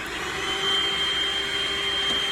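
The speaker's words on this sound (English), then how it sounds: "Inside this step, we'll give that a good clean and get the hoover in there as well." A hoover runs steadily inside a Peugeot J9 van during restoration, a continuous droning whine with a fixed high tone, close and fairly loud, cleaning sandy debris from a step with no talking.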